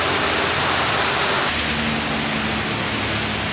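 Heavy rain falling during a drive on a hilly road, a loud, dense, continuous hiss of rain and spray with a low rumble underneath that shifts slightly midway, no voices.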